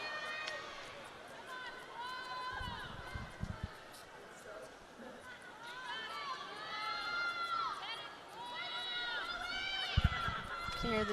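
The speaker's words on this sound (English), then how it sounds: "You hear the teammates cheering for her." Teammates cheer and call out encouragement for a gymnast at a college gymnastics meet between MSU and Iowa. The arena crowd noise carries whoops and shouts that rise and fall, with a commentator talking over it.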